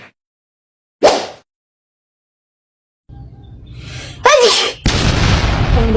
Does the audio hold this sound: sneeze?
yes